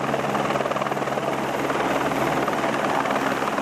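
An emergency medical helicopter's rotor and engine drone loudly and steadily throughout, with a rapid blade chop over a broad roar and no speech.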